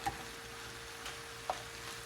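Mushrooms cooking in a pan for lettuce wrap filling are stirred with a spoon, giving a faint, soft scrape and a couple of light knocks over a low, quiet sizzle, with no talking.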